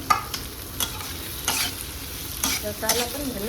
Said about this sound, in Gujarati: હવે એને મિક્સ કરો, મિક્સ. તો હવે એની અંદર નાખી દીધા બટાકા.